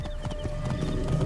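Horse hooves clip-clop at a steady walking pace in the Assassin's Creed Origins video game, close and fairly constant, with a brief whinny-like tone and no talking.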